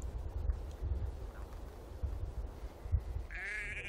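Domestic sheep and goats bleat outdoors over steady low wind rumble, with one clear wavering bleat rising near the end.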